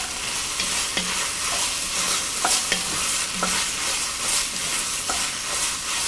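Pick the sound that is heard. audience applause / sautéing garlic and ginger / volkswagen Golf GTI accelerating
sautéing garlic and ginger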